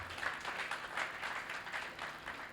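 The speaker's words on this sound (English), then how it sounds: "Please, a round of applause for her." Applause for a guest at a memorial law colloquium, a soft, steady patter of clapping from a seated audience, heard faintly from a distance.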